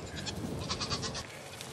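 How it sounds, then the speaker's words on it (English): Many goats bleat together in a dense, continuous chorus of overlapping wavering calls, close and loud, at a farm during kidding season. "A lot of goats."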